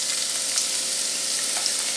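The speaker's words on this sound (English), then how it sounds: "You can hear a good sizzle going on." Red onions sizzle in oil in a warm pan, a steady, close frying hiss with faint crackles throughout and no talking.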